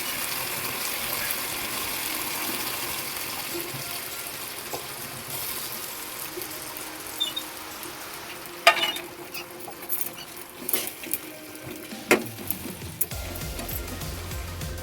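Fried eggplant pieces go into a mustard hilsa curry in the pan, a steady sizzle joined midway by scattered clinks, pops and stirring scrapes.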